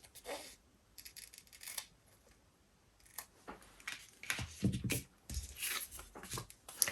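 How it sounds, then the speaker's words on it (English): Scissors snip through a double-sided adhesive sheet during card making, giving a series of short, crisp cuts that grow louder and denser in the second half, with small handling noises between snips. "I'm just going to take my scissors and"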